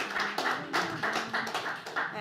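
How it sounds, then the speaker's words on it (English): Audience at a traditional Irish singing session at the Séamus Ennis Centre gives a round of applause, a dense patter of hand claps with rhythmic bursts and a faint voice underneath. "one more round of applause"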